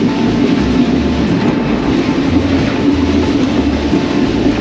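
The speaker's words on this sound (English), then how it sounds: "I'm not in control of this train." A passenger train on the Phnom Penh to Battambang line in Cambodia rumbles loudly and steadily along the rails, with a continuous low roar and faint rhythmic clatter from the wheels throughout.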